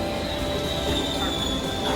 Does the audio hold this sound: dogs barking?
no